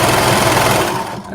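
A sewing machine runs in one short, loud, continuous burst as it stitches together the overlapped short edge of a neckband, then stops abruptly.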